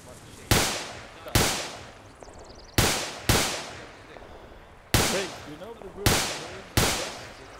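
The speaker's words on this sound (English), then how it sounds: "Oh, are those shots?" Sharp video-game gunshots ring out about seven times at irregular intervals, each a loud close crack with a quickly fading tail.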